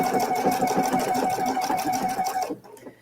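A PFAFF sewing machine runs steadily, stitching down a length of ribbon with a fast, even mechanical chatter close by, then stops abruptly near the end.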